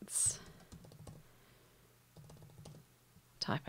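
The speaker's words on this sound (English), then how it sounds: "type a heading to advertise my graphic" Fingers tap out a heading on a computer keyboard in two short clusters of crisp clicks, close and clear, with a brief mouse-like click near the end.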